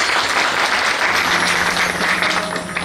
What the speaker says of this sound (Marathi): त्याचा जोरदार टाळ्या